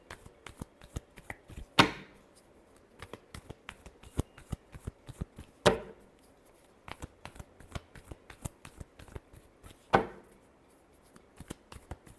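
Hand-shuffled tarot deck, steady close-up card flicks and riffles broken by three louder slaps of the deck at even intervals, with no voices.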